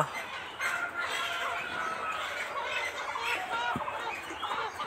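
Broiler chickens cluck and fuss continuously at close range during fowlpox vaccination, a dense layer of calls with an occasional crow and a short knock partway through.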